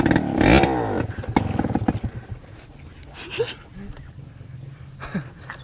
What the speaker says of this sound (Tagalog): Nakita nyo naman kung gaano kalakas ang motor ko